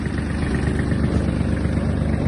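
A Japanese Kubota GL-320 mini tractor engine runs close by, a steady, even mechanical hum without pauses or voices.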